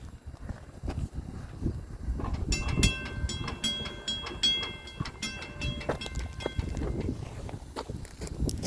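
A train passing the Grantland Avenue railroad crossing in Fresno, California, with a heavy rumbling roll of wagons and a clatter of wheels over the rails, loud and close, joined partway by steady tonal crossing signals.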